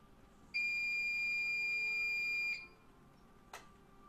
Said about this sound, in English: I like everybody's theories about what that beeping is as they come in